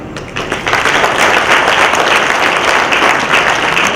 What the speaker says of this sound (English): Help me give a round of applause to the organizers,